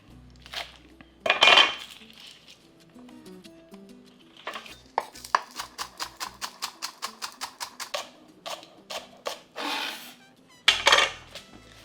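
Knife chopping fresh thyme, rosemary and a scallion on a board for garlic butter steak bites, with a close rapid run of even, regular chops in the middle, plus a few heavier knocks and scraping sounds before and after.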